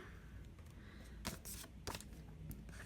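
Cardstock edges being trimmed during card making, a few quiet, sharp snips and rustles in short bursts, close and faint with no talking.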